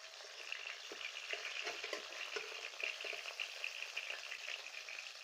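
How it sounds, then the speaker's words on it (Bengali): Small puti fish frying in hot oil in a pan, a steady close sizzle and crackle with scattered sharper pops throughout, no voices. "এই যে লাল লাল করে এমন করে ভেজে নেবেন।"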